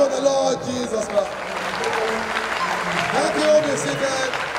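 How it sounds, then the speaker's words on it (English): Church congregation applauding during a sermon, a steady wash of many hands clapping at moderate volume while a voice talks over it throughout. "Clap for the Lord Jesus Christ"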